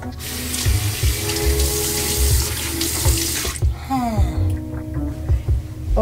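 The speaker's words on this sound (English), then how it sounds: "And then we rinse." Bathroom sink tap running steadily while a face is rinsed during a nighttime skincare routine, close and continuous, then the flow cuts and water splashes and drips in the basin.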